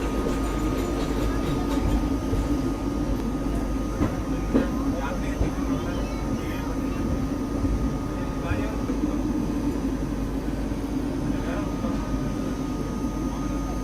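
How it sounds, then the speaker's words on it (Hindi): Nizamuddin–Bandra Garib Rath express standing at Mathura Junction, a steady low rumble of the idling train and station hum with scattered clanks and faint background voices throughout. "निज़ामुद्दीन बांद्रा गरीब रथ है, मथुरा जंक्शन पे खड़ी है।"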